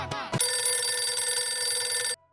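An electronic telephone ring sounds loudly for about two seconds as one steady trilling tone, then cuts off abruptly.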